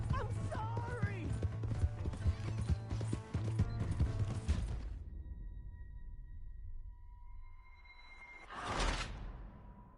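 Horse hooves clip-clop in a PS4 video game, steady and close, amid busy game effects. The scene then drops to a quieter stretch of steady tones, and a brief rushing whoosh swells and fades.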